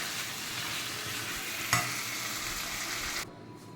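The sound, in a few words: stirring and roasting spicy chicken fry with pepper powder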